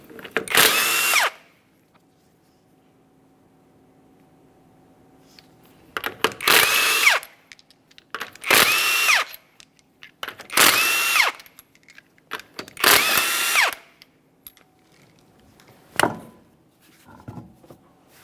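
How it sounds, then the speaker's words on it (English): An impact-type power tool spins off the 21mm lug nuts on a Kia Forte Koup wheel in five loud, separate bursts of whirring and rattling, each about a second long, with quiet pauses between. "To remove the wheel, we're going to remove all 5 of our 21mm lug nuts"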